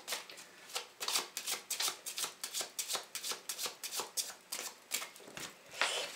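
Tarot cards being shuffled for a reading, a rapid series of close riffling bursts repeating rhythmically, soft and without talk.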